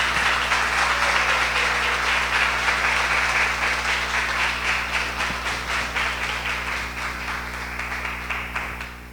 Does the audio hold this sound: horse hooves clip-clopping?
no